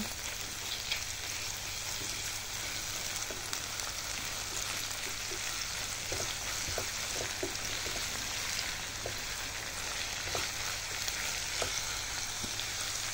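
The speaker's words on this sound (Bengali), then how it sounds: "এখন আদা রসুনটাকে কিছুক্ষণ তেলে ভেজে নিচ্ছি।" Ginger, garlic and cumin paste fries in hot oil for a tehari, giving a steady, soft sizzle dotted with small crackles and pops, with no talking.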